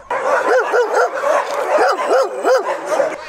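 Dogs at an animal shelter bark and yip in quick, loud, overlapping bursts close by. Whimpering whines are mixed into the rapid, continuous chorus.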